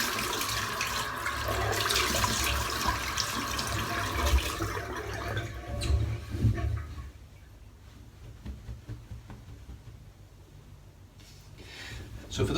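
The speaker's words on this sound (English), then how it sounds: "And then rinse off the head." Running water rinsing a shaved head, a steady gushing splash for several seconds that then thins to quieter trickles, with a voice speaking over part of it.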